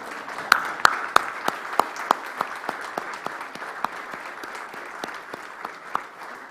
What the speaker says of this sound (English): I think we all stand up and give a round of applause for Koshi